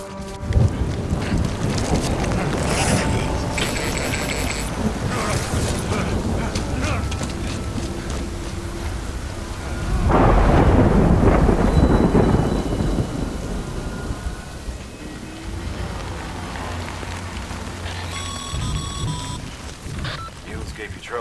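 Rain falls steadily in the video game Death Stranding while thunder rumbles, swelling into a loud, long roll midway, with game sounds and tonal cues layered over the downpour.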